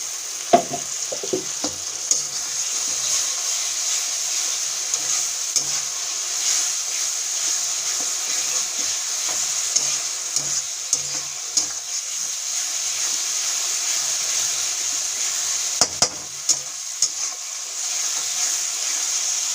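Ginger, garlic and cashew paste frying in ghee with browned onion, a steady loud sizzle with occasional scraping stirs and utensil knocks throughout.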